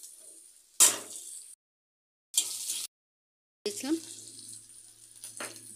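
Green chilli and turmeric frying in a pan, stirred in three separate bursts of sizzling and scraping with short silent gaps between them, fairly close and moderately loud.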